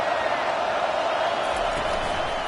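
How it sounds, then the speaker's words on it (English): Stadium crowd at a UNC vs Miami college football game, a loud, steady roar of massed voices filling the whole stretch with no break. "This crowd bringing the energy and noise early."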